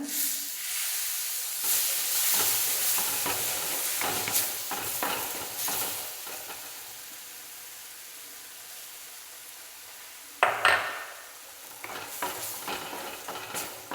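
Sardine curry with tomato juice and ginger sizzles in a pan while being sautéed, giving a soft, continuous hiss broken by scraping stir strokes and one sharper clatter, with no voices.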